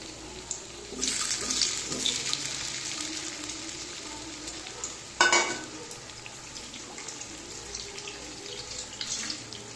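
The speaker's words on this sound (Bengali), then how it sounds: "এখানে হাতটা ধুয়ে নিলাম" Water runs from a filter tap over washing hands in a short splashing burst, followed by a brief louder gush, with faint frying crackle underneath.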